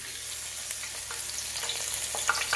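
Oil seasoned with scallion, garlic and green and yellow scotch bonnets sizzles and crackles steadily in a pan for fish frying, with scattered sharp pops and stirring scrapes over a constant hiss.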